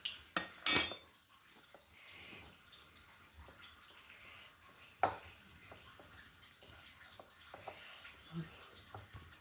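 A spoon clinks sharply against a bowl while gram flour, rice flour and a spoonful of hot oil are stirred together for jaggery murukku dough, then softer scraping and faint knocks follow, with a quiet voice in places.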